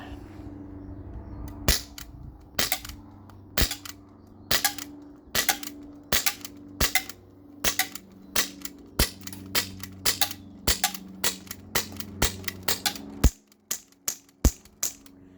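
A Glock 19X Gen 5 CO2 BB pistol fires in a long series of sharp, close snapping shots at an irregular but fairly quick pace. A faint low hum sits underneath, and the shots turn weaker near the end as the gas runs low.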